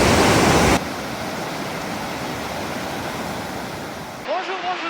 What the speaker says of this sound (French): nous voici sur un nouveau spot au milieu de la forêt, à côté d'une rivière